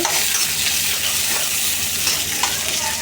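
Potato and pointed gourd pieces fry in hot oil for a home-style tangra fish curry, a loud, dense and continuous sizzle that holds steady throughout without any talk.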